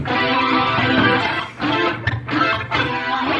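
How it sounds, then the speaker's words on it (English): A dry, unprocessed synth lead plays a hook as short, sustained, buzzy phrases with brief gaps between notes, loud and alone without any voices. "Let's hear how the lead lines of the hook sounds like."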